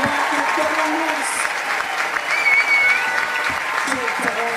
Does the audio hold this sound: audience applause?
yes